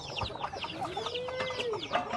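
Chickens cluck repeatedly in a farmyard, with short overlapping calls and a longer rising-and-falling fowl cry near and moderately loud, no talking.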